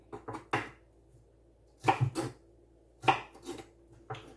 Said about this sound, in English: I'm actually going to cut them a bit more. I guess this is less slicing and a bit more dicing